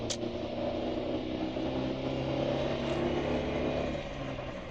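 A 1998 Chevrolet Tracker's engine drones steadily as it accelerates in third gear on the highway, a continuous close cabin hum with road noise and no talking.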